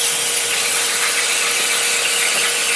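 Langmuir Crossfire plasma table cutting metal, a loud continuous hiss with a hard metallic edge, steady and close for the whole stretch.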